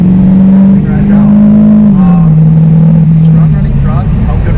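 LML Duramax diesel truck accelerating hard at full throttle, a loud, steady engine drone right up close that holds strong and pulls through without letup, with the cabin full of sound.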